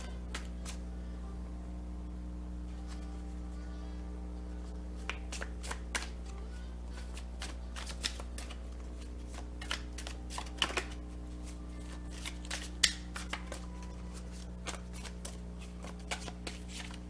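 Playing cards being shuffled by hand in quick, soft riffling bursts, quiet and close, over a steady low electrical hum.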